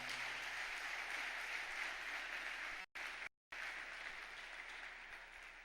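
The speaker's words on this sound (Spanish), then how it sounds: "Dele fuerte ese aplauso al Señor." A church congregation applauding the Lord during a Spanish-language sermon, a steady, dense wash of clapping from a large crowd that cuts out briefly, then resumes and slowly tapers.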